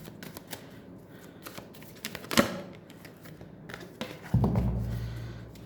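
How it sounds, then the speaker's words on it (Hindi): Tarot cards are shuffled by hand during a Hindi tarot reading: a few quick close riffles and taps, with a louder burst near the middle and a low hum toward the end. "पहले मैं शफल करूँगी अच्छे से।"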